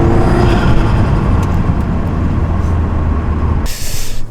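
Heavy vehicle rumble from a bus in traffic just ahead of a VW Golf R, a steady loud low drone with a hiss of air brakes near the end.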